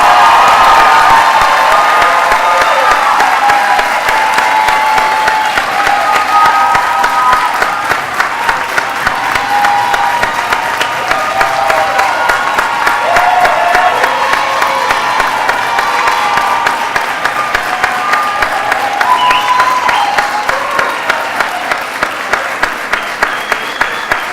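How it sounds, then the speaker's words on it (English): Graduates and audience at a high school district's winter commencement break into loud, sustained applause with cheering and whoops from a large crowd, steady and close for the full length. "One more big round of applause."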